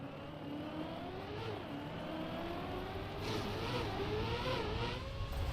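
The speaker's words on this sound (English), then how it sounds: "there are multiple cars right in front of me." Several racing cars in a racing video game drone just ahead, engines humming at steady high revs with slight pitch rises and dips. The sound is continuous and moderately loud, with no talking.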